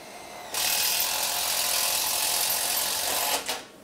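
TRUMPF power drill with a hole saw cutting through 1.5mm steel, a loud continuous grinding whir lasting about three seconds before cutting off abruptly.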